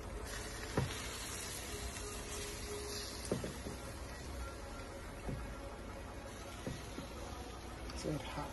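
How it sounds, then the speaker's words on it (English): Steady, close sizzling crackles on without a break, a dense hiss of glaze on a Jamaican Easter bun with occasional small pops. "Oh, look at that sizzle."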